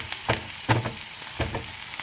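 Onions caramelizing with sugar fry in a pan, a steady sizzle broken by repeated scraping strokes of stirring, close and alone without talk.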